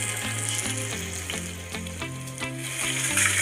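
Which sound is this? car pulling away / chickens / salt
salt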